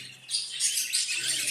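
Budgerigars in a breeding aviary chirp and tweet busily, a dense overlapping chatter of bright, high calls that swells after a brief quieter start and carries on close and loud.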